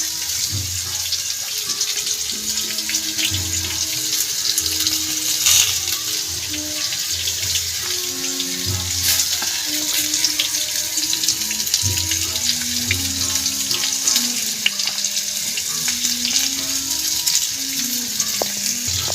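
Large pieces of aar fish with ginger and garlic paste frying in oil on a leaf, a continuous hiss and crackle with scattered taps as the pieces are laid in.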